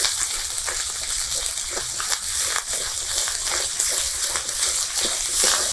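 Spice paste with ginger paste frying in a pan, a steady broadband sizzle with faint scraping and stirring clicks throughout.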